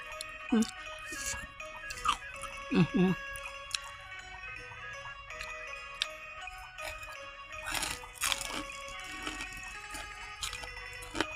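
Someone chewing and eating Thai chili dip, soft wet crunches and mouth sounds scattered through, with speech running over them.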